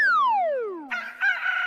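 Rooster crowing sound effect played for a desi chicken dish, a short, loud cry that glides downward and breaks into a raspy, clucking finish, heard alone.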